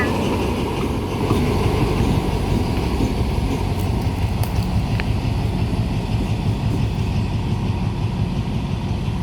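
Freight train number 986 pulls in with a loud, steady, close rumble that lasts throughout, with brief faint squeals over the heavy noise.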